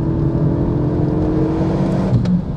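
A Renault Megane 3 RS Cup pulls hard from the cabin, its engine note rising in a loud, continuous whooshing roar with road noise underneath.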